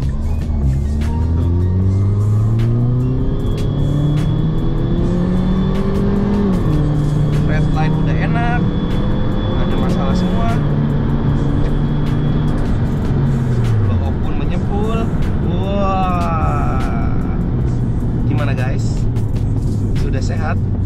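A Mini Cooper S R56 with a Stage 2 engine revs and accelerates with rising, falling pitch sweeps, heard from inside over steady road noise, with occasional talking.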